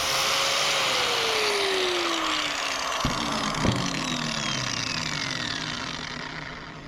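A Metabo angle grinder sharpens a blade edge for cutting grass, giving off a steady, loud, whining hiss that drifts slightly in pitch. Two brief clicks cut through midway.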